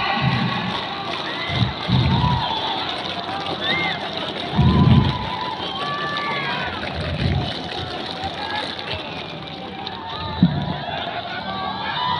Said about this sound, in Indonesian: Tepuk pramuka 3 kali.